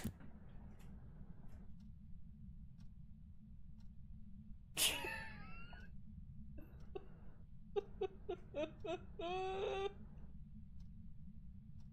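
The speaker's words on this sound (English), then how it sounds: "The dog sneezed in my face." A dog sneezes several times in a quiet indoor room, a sharp burst followed by a quick cluster of short snorting sneezes, close and fairly loud over a steady low hum.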